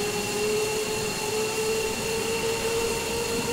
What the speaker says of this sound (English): Second engine is spooling.